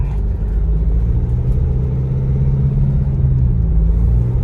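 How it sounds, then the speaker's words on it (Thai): A Mu-X pickup's 1.9 engine idles with a deep, steady rumble and then revs to about 2000 rpm, holding a strong low drone throughout at close range. "กดลง เสียงเครื่องมันก็จะบูตรอบมันก็จะขึ้นไปประมาณสองพัน"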